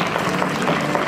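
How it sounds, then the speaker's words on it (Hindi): Enthusiastic applause at a school annual function prize giving, a dense, loud, continuous wash of many hands clapping. "जोरदार तालियां"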